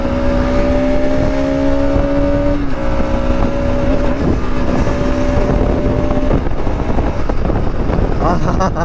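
A 2025 Bajaj RS200 motorcycle engine revs while riding, a steady drone whose pitch holds then drops as the rider shifts gears, mixed with strong wind rush over the microphone.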